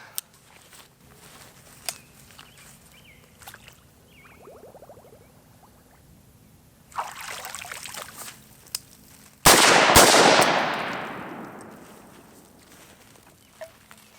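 AR-15 rifle fired outdoors in muddy conditions: a single sharp loud report with a long decaying tail, followed by quieter clicks and handling noise around it.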